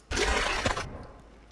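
A single harsh, crackling burst of synthetic sound, a Nyctoxon creature call from the game Creatures of Sonaria, loud and close, holding for most of a second before cutting off abruptly and fading out.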